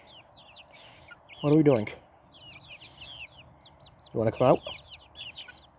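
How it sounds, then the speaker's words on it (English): Chicken clucking inside a chicken tractor, with a few soft clucks and calls scattered throughout. Someone speaks twice over them at close range. "Are you murmuring? Unsatisfied with the conditions of your chicken tractor?"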